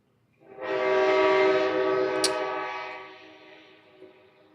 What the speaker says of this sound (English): I live near a train track.